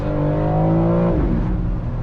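A powerful sports car engine roars close up as it accelerates, the pitch rising steadily before a quick gearshift dip, then the loud drone resumes with no voices over it.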